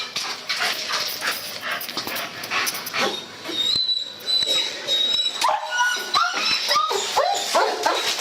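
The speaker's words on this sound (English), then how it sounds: "Listen to the dog!" A dog barks repeatedly and lets out high whimpers and yips amid a busy, noisy background, growing more frantic toward the end.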